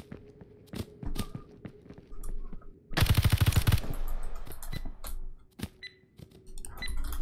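A burst of rapid automatic gunfire in the survival video game Hurtworld, preceded by scattered single shots and footsteps, loud and close for about a second before the firing ends.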